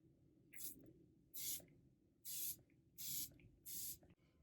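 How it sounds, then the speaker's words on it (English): Wet n Wild Purifying Setting Mist sprayed in five short, crisp hissing bursts, evenly spaced at about one per second, close up over a quiet background. "I have this Wet n Wild FE1 Purifying Setting Mist."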